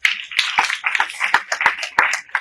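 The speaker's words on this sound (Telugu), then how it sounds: "గట్టి క్లాప్ కొట్టాలి" Loud hand claps ring out in a quick, uneven series during a yoga session, sharp and close, about a dozen in a row.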